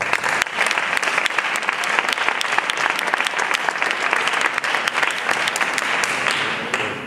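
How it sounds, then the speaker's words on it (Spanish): A live audience claps to welcome Joaquín, a dentist, to the stage, with sharp, close individual claps standing out over a steady, dense round of applause. "Un aplauso."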